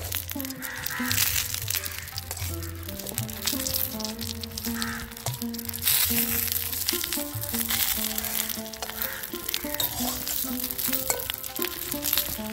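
Prawn paturi frying gently in mustard oil over low heat, a soft, steady sizzle sitting low beneath loud music that plays throughout.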